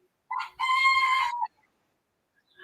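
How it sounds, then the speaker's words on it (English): A small cockerel, probably a bantam, crows once from a farmyard in Fundão, Portugal: a brief lead-in note followed by one long, bright call. It is fairly close and heard alone, with no talking. "we've got your cockerels crowing in the background"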